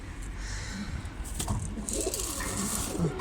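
Pigeons and turtle doves coo softly amid steady background noise as they are fed corn, with a few brief low coos rising over a constant hiss.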